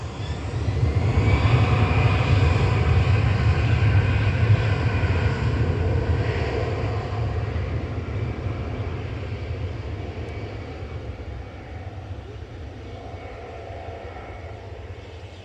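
A Virgin airliner taxis at Manchester Airport, its jet engines giving a steady, loud roar that holds throughout and eases slightly toward the end, with light wind noise.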